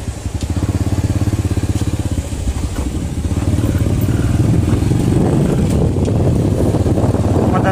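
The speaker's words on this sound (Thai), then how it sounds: "ขับมอเตอร์ไซค์ไปกิน" Motorcycle ride through streets at midday on the way to lunch, the engine running close and loud with a rough, pulsing putter that rises as it speeds up, with some rattling and wind.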